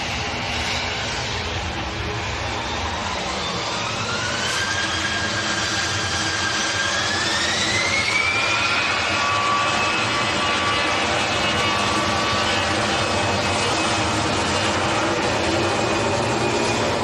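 EasyJet jet taking off at Manchester Airport, a loud sustained engine roar with rising whining tones that climb and swell midway, steady throughout with no talking.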